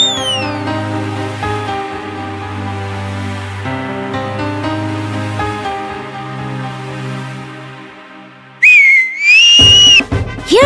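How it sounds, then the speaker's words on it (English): A cartoon mouse chief's whistle in a children's bedtime story: a bright, wavering whistle rises and swoops near the end, breaking in loudly over a sustained bed of orchestral music. "Hearing his whistle"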